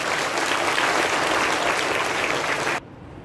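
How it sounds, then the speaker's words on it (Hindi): Dense, steady applause from a crowd at a Labour Day celebration, loud and continuous for nearly three seconds before cutting off abruptly into quiet. "ताली बजाइए"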